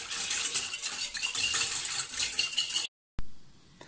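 A spoon clinks and scrapes through tabbouleh ingredients in a bowl, with a busy run of metallic rattles and stirring for about three seconds, then a brief silence and one last sharp tap.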